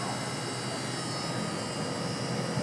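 A steady, whooshing mechanical hum of a Carrier inverter split-type air conditioner running at high speed, constant and broadband with a faint high whine, no voices.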